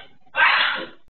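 A single close, sharp sneeze bursts out after a brief quiet moment indoors and then fades.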